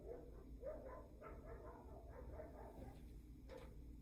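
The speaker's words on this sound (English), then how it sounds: "the dog barking outside" A dog barks repeatedly outdoors, several rough woofs in an uneven run with a couple of higher yips, heard at moderate distance over a low background hum.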